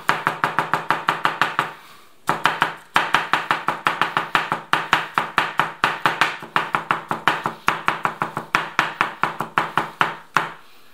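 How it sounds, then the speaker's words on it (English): Knife roughly chopping dried wild mushrooms on a board, with fast, steady runs of sharp close taps broken by short pauses. "I will just roughly cut them"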